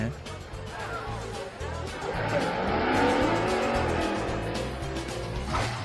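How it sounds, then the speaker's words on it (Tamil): A car fitted with oversized tyres driving, its engine note roaring continuously with a rising, straining tone over rough ground, close and fairly loud throughout. "இந்த சைஸ் டயர்லாம் நம்ம ஊர் தேர்ல தான் பார்த்திருப்போம். ஆனா இவங்க கார்ல மாட்டி ஓட்டுறாங்க."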